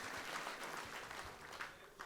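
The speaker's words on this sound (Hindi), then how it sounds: "उनका भी जोरदार तालियों से अभिनंदन" Faint, somewhat distant applause from an audience at a Rajasthan senior teachers' association gathering, a continuous crackle of many hands clapping with a few slightly louder bursts, heard alone without speech.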